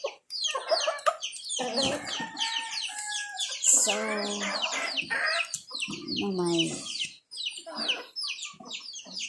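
A flock of backyard chickens clucks and squawks busily near the microphone at feeding time, overlapping calls rising and falling with a brief rooster-like crow, while someone speaks briefly.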